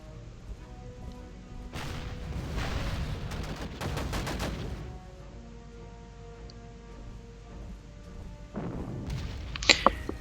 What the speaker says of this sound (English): that's the anti-tank gun getting attacked